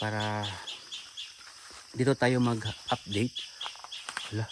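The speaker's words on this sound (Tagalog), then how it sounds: "Tumunog yung boses ng ibon." Loud bird call ringing out near a hut at night, a harmonic cry at the start followed by sharper calls while someone talks over them.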